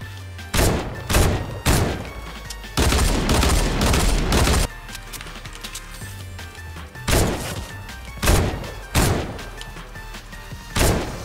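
In the PC game Fortnite, loud bursts of gunfire crack in clusters, with rapid volleys and heavy impacts separated by short quieter gaps.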